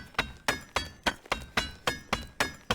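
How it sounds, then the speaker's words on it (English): Rapid, evenly spaced hammer strikes on a blade in the VR game A Township Tale, each a bright, loud glassy shattering clink, about three per second with no voices. "that blue shattering effect means it's done"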